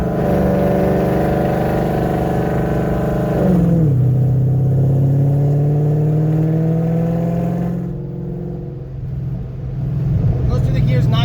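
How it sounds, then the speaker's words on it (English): A Ford Fairmont with a swapped Coyote V8 runs steadily and fairly quietly, its smooth engine tone rising and then dropping as it shifts, close and continuous. "This car needs a chop bad, meaning needs the cams to chop. It's too quiet."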